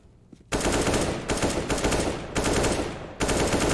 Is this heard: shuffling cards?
no